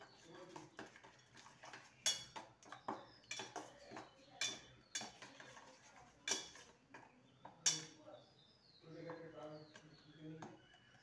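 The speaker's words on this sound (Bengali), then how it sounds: "এবার ভালো করে মিশিয়ে নেব।" Cauliflower pieces are mixed with chili powder, coriander leaves and spices in a bowl, giving faint, irregular clinks and taps of a utensil against the dish. Soft talk can be heard in places.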